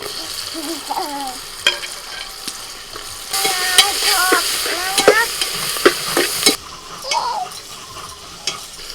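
Spiced masala with chopped tomato, red chilli powder and salt fries in a pan, a close sizzle broken by repeated scraping strokes of a spoon and sharp clinks, louder in the middle stretch.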